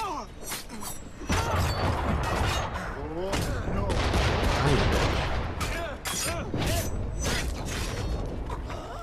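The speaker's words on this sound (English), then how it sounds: "Look at them all shooting at me." Soldiers fire volleys of musket gunfire in Assassin's Creed III, with repeated sharp shots and crackling bursts over a steady loud battle din and mechanical game sounds across the whole stretch.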